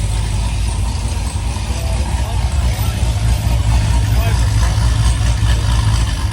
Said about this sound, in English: Oh, C7 is chopping pretty good.